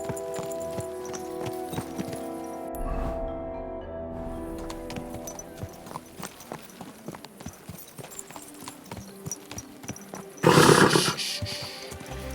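Horse hooves clip-clop at a steady walking rhythm in the medieval open-world video game Kingdom Come Deliverance II, set against ambient background music, with a louder, brief burst of noise near the end.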